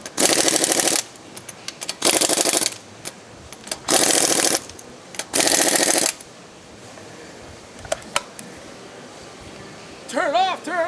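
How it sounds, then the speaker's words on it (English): An impact wrench tightens a front strut bolt on an Audi Allroad Quattro during a suspension conversion, firing four loud, close bursts of roughly a second each with quiet pauses between, followed by faint clicks and a brief rising whine at the end. "Now he's tightening up the strut bolt."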